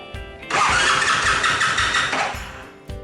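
The starter motor of a Honda Super Cub, with a scored piston, cranks with the throttle held fully open: a close, steady whirring churn of about two seconds with rapid rhythmic pulses, stopping without the engine catching.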